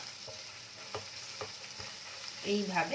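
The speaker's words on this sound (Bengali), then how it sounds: "খানিকক্ষণ আমি কষে নেবো, যতক্ষণ না মশলা থেকে তেলটা না বেরিয়ে আসছে।" Masala of tomato and green chilli paste fries in a pan over medium flame, a close steady sizzle with rhythmic scraping strokes of a spatula stirring, a short spoken word over it near the end.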